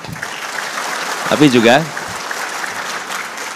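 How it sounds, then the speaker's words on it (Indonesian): An audience claps through a hall, with steady background applause while someone speaks briefly in the middle. "boleh tepuk tangan"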